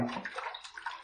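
Water runs steadily from a tap as hands are rinsed during a wet shave, a brief close splashing rush with no voices.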